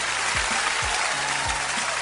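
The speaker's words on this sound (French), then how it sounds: "Est-ce qu'on peut l'applaudir pour l'homme lion?" A studio audience applauds on a French-language television talent show, a dense, steady wash of clapping that holds at an even level throughout, with a few low thumps underneath.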